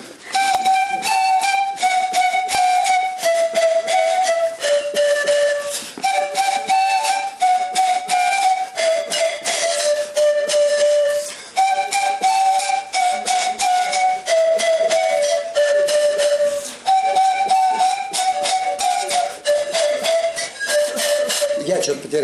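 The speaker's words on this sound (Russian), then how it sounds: "В три партии играем частушечный наигрыш и на кугиклах очень красиво звучит" An ensemble plays a lively three-part chastushka tune on kugikly panpipes, with breathy, whistling tones in short repeating phrases that continue nearly unbroken and sound close and clear.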